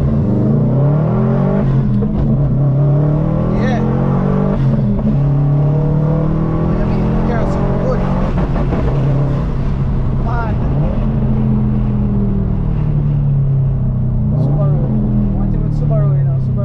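Honda Civic Type R FK8 driving and accelerating, its engine droning loudly and continuously from inside the cabin as revs rise and fall, with people talking over it throughout.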